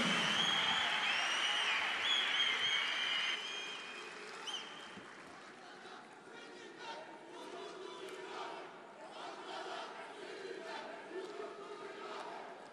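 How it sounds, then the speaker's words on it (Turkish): A large crowd claps and cheers loudly at a political rally presenting local election candidates, the roar fading after a few seconds into scattered clapping and a murmuring crowd with voices. "Hepinizi yürekten alkışlıyoruz."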